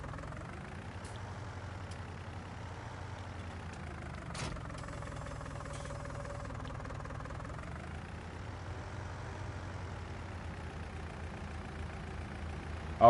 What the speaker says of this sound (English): I love the way this tractor sounds, dude.